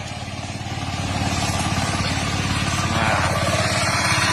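A Paddytech RTH 1350 cultivator engine runs steadily and loudly throughout with a fast, even putter, with a brief word spoken over it near the start.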